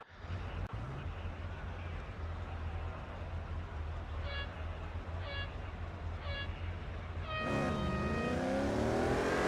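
BMW M Hybrid V8 race car in the Real Racing 3 video game, lapping Monza: a steady engine drone, several short synthetic beeps, then a loud rising rev as the car accelerates away.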